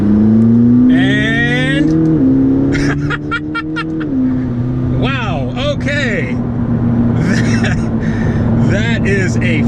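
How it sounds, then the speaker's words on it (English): A McLaren 12C supercar accelerates hard from inside the cabin, its engine droning steadily and rising in pitch through the gears, loud and close, while a person talks and exclaims over it. "That is a fast car."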